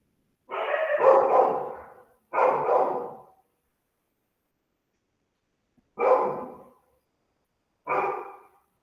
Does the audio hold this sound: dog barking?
yes